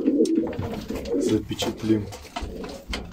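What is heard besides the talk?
Andijan pigeons cooing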